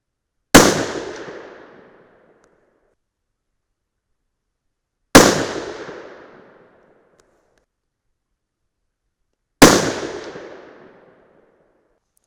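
Three loud, sharp 6 PPC rifle shots fired a few seconds apart, each a close crack followed by a fading echo, with silence in between.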